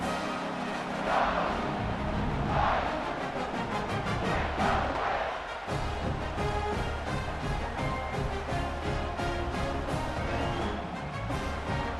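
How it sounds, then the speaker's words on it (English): Football stadium crowd buzzing after a touchdown and extra point, a dense, steady roar of many voices with a few swelling cheers, filling the whole stretch without clear individual words. "this crowd is buzzing after that last score"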